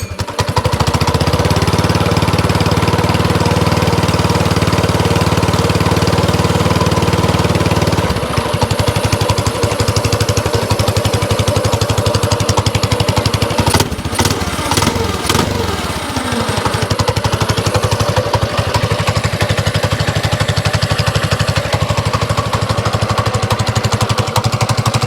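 Mini bike with a swapped 224 engine runs steadily and loudly, a buzzy small-engine drone that shifts to a rougher, choppier note partway through with a few sharp clicks.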